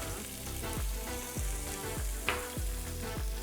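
Onions and garlic cloves fry in a pressure cooker, giving a loud, close, continuous sizzle with rhythmic stirring scrapes about every half second and no voices.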